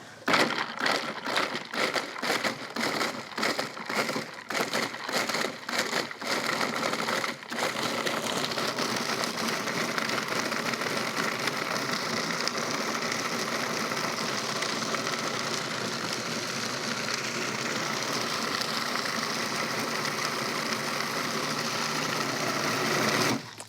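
Food processor pulsing oranges in short rapid bursts for several seconds, then switching to a steady continuous grinding whir that runs loud and close for the rest of the stretch, no voices.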